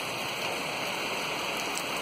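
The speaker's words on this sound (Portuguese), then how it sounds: "Tá chovendo." Steady rain falls outside a house, a dense, even hiss of drops holding at a constant level throughout with no gaps or talk.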